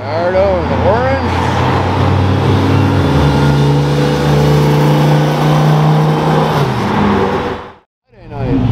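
An orange Lamborghini Gallardo revs its engine nearby: loud, rising and falling engine notes with a sustained roar that cuts out abruptly near the end, then resumes, while people talk over it.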